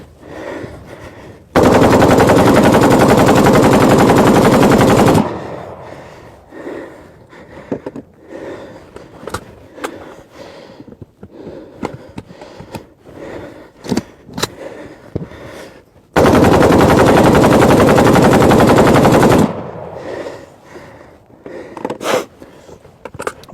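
AK rifle firing on full automatic, two long, loud, close sustained bursts separated by quieter pauses filled with clicks, shuffling and handling noises.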